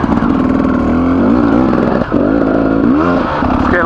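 Small two-stroke 300 dirt bike engine revving hard on a flowy trail, loud and close with a continuous buzzing drone that rises and falls through throttle blips, briefly dipping near the middle before pulling again.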